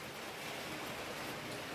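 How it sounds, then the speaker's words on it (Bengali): Rain falls steadily under a cloudy sky during a gusty day, a soft, even hiss of drops throughout the short stretch with no other sounds. "আর এই যে বৃষ্টি, কেমন বৃষ্টি শুরু হয়েছে"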